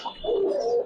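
A racer pigeon gives a single short throaty coo, close and clear, with no talking over it.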